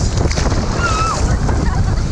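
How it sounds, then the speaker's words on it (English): Ocean waves wash up at a beach in Freeport in a steady, loud roar with heavy wind rumble on the microphone, close and continuous. "Okay, the waves are getting bigger, y'all."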